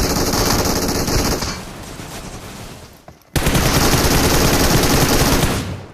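An MG3 machine gun fires in long rapid bursts in a video game, a dense rattling stream that stops briefly for a near-silent gap, then resumes with equal loudness and fades at the end.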